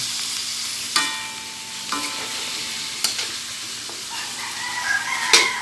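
Chicken pieces and ginger fry in a pan, a steady sizzle running throughout, with a few sharp clinks of a utensil stirring against the pan.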